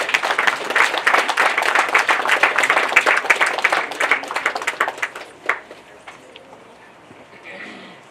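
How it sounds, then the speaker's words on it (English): An audience applauds at a street-naming ceremony honouring Botswana's founding president Sir Seretse Khama, where Namibia's president is welcomed to speak. Steady, crisp clapping lasts about five seconds, then fades to scattered claps and quiet room noise. "Please, with a round of applause."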